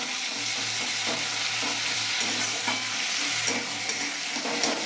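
Chopped tomato fries in hot oil for a Bengali bata fish curry, giving a steady, dense sizzle with soft stirring scrapes throughout, close and even in level, with no talking.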